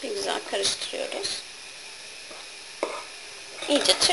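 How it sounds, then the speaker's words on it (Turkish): Whipped cream being stirred into a milky semolina dessert, with soft scraping swirls in two spells at the start and end and a quieter pause between. "bir güzel karıştırıyoruz"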